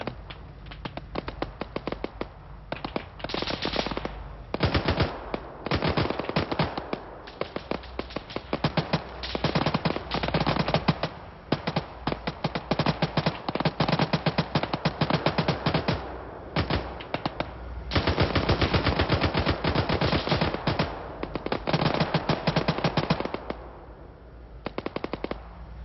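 Gunfire in a military video game, with rapid automatic bursts and single shots crackling in long stretches, pausing briefly and then resuming, loud and close throughout with no speech.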